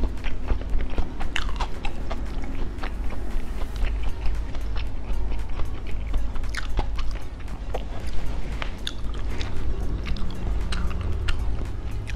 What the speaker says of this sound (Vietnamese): cắn tới đâu cái nó cứ vỡ ra trong miệng mọi người